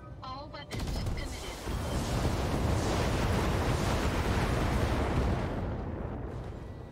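Mechs unleash a full weapons volley in Battletech with the Extended 3025 mod: a few brief clicks, then a loud, sustained roar of overlapping blasts and gunfire that rolls on for several seconds.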